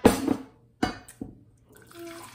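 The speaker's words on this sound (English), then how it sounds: "I'm gonna go grab my boiling water and I will add 2 cups to my measuring cup to make my tea concentrate" Boiling water pours from a kettle into a measuring cup in short splashy bursts, with a pause between pours and a faint trickle at the end.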